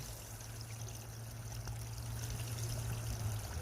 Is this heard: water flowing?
yes